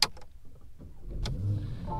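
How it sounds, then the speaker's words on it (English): A 2019 Porsche Panamera starts up: a quick click and brief whir, then after a pause a sharp ignition burst settles into a low, steady idle rumble close by. "And the car starts."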